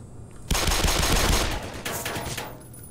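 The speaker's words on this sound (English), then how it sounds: "Automated machine gun." Automated machine gun fire in the video game Black Mesa Source, a dense rapid burst of shots starting abruptly, loud and sustained for about two seconds before tapering off.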